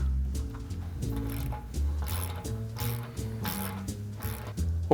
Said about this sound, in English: we'll torque this assembly in place